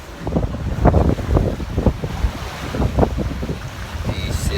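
Water sloshes and splashes in a cruise ship's swimming pool as the ship rocks in strong wind, heard as irregular surging slaps and gushes under steady, heavy wind rumble against the microphone.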